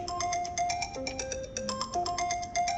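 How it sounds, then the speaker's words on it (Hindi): A phone rings with an incoming call, a bright electronic ringtone melody of quick repeating tones played loud and close. "फोन आ रहा है।"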